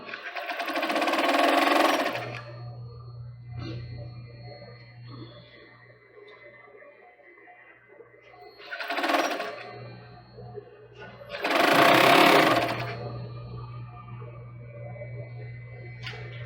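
A sewing machine stitches a child's swimsuit in bursts: a loud run of stitching, then a long steady low hum. Two more stitching runs follow, the last one the strongest. Nobody talks.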